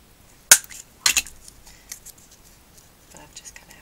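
Scissors snipping paper for handmade paper flowers, two sharp close cuts followed by a few faint trailing snips in a quiet room.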